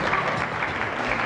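Steady applause from a snooker crowd at a 1997 Grand Prix match, a dense, even patter of many hands filling the hall throughout, with no voices above it.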